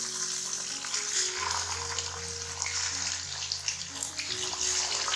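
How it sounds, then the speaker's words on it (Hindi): Chicken frying in a karahi with whole spices, a steady dense sizzle and hiss that stays loud and close throughout, with no voices over it. "चिकन को हमने अच्छी तरह से फ्राई कर लेना है।"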